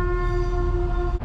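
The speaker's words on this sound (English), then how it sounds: "Got to wait for the train." Train rolling through a railroad crossing, a loud steady tonal drone like a sustained horn blast with low rumble underneath, holding evenly before cutting off abruptly at the end.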